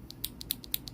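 A lubed Outemu Panda mechanical keyboard switch pressed repeatedly, giving about seven crisp, close clicks at a steady rhythm with no voices.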